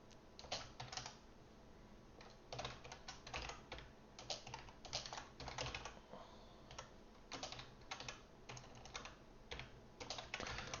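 Rapid, uneven bursts of keystrokes on a computer keyboard at a desk while coding, close and fairly quiet, with short pauses between clusters of key presses and no talking.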